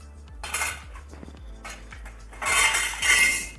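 A metal plate set over a dosa pan topped with tomato, onion, chilli and coriander, giving a few light metallic clinks and knocks, then a louder burst of hissing steam, close.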